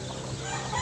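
Chickens on a small farm where many chicks have just hatched cluck softly in the background, faint and continuous, with a low steady ambient hum.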